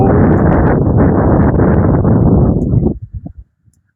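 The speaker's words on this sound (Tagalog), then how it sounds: "Ang lakas ng hangin." Strong wind buffets the microphone in a loud, continuous roar that cuts off abruptly near the end, leaving a few faint thumps.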